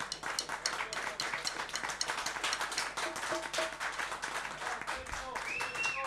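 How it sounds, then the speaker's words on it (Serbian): Audience applause fills a kafana, a steady wash of many hands clapping close and lively, with voices mixed in throughout. "Jedan veliki aplauz za kafanu Čeze"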